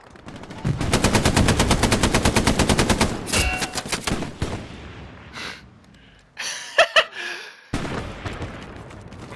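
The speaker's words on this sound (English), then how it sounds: "Shoot your fucking gun, let's go!" Sustained machine gun fire in the WWII shooter Hell Let Loose, a fast steady stream of loud close shots lasting about three seconds, then scattered single shots, a louder burst and heavy breathing.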